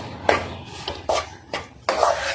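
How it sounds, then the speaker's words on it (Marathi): Freshly grated wet coconut is sautéed in melted ghee in a pan, giving four distinct scraping strokes of a spoon against the pan at a steady pace, close and clear with no talk. "1 बाउल मी खोबरं घातलेलं आहे ओलं व व्यवस्थित असं परतून घेणार आहे 2 मिनिटं."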